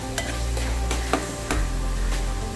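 Coriander leaves are stirred into a Tamil-style mutton curry, with a few quick rhythmic scrapes over a low bubbling simmer at close range.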